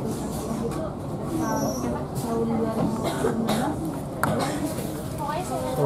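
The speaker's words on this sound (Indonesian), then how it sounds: "Kereta berhenti di stasiun Cikampek." The Walahar commuter train pulls into Cikampek station and comes to a stop, its rumble and rolling clatter steady throughout while people talk nearby.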